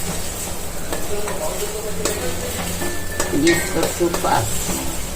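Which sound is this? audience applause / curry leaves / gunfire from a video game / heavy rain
curry leaves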